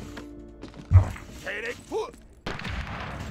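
Gunshot in the World War I game Valiant Hearts: The Great War, a single sharp bang with a short tail, followed by game sound effects and a brief burst of noise, with someone talking over the game.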